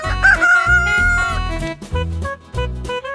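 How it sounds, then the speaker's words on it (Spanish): A rooster crows loudly, one drawn-out cock-a-doodle-doo with rising and falling calls, set against bouncy children's farm music. "Gallo."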